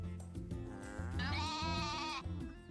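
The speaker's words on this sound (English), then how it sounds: "The only thing I don't like about sheep in this game is they're always just yelling at me." Sheep bleating in Story of Seasons: A Wonderful Life, a drawn-out wavering cry rising in pitch over a steady low musical backdrop, close and clear, with no talking.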